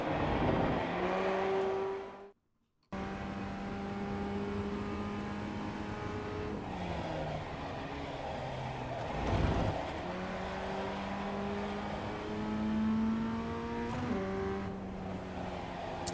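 A Ray FF1600 formula race car in iRacing at Okayama Circuit drones steadily from the cockpit, revving up through gears with repeated upshifts and a brief silent gap early on.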